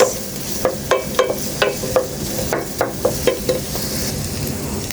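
Garlic and onion sauté in a pan for a chicken with chilli sauce dish, a steady sizzle punctuated by a rhythmic series of sharp spatula scrapes and taps against the pan.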